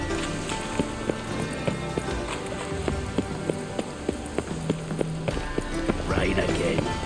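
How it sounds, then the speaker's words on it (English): Rain falls in The Witcher 3, a steady patter with scattered distinct drops and taps, close and fairly loud, while someone speaks now and then over it. "Rain again."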